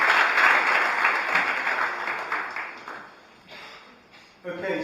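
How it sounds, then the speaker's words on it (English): Round of applause from a conference audience at a Brussels concertation event, dense clapping loud at first and thinning out, nearly stopping before a brief swell near the end, with some voices mixed in. "We have another round of applause"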